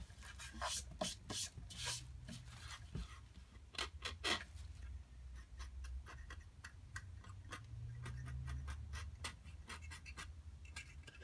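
Masking fluid being rubbed off a painted Boba Fett helmet, a quiet run of dry scratchy rubs and rasps in short bursts, close to the microphone, with no voices.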